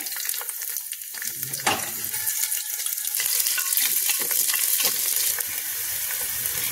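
Onion, panch phoron and bay leaves crackle and sizzle steadily in hot oil in a pot, a dense close frying hiss with sharper pops and occasional stirring scrapes, no voices.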